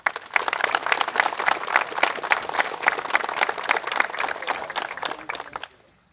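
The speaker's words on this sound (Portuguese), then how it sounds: "A eles, nosso carinho e os nossos aplausos." An audience at a civic ceremony marking a town's 75th anniversary claps in sustained, dense applause that fills the room, then cuts off abruptly at the end.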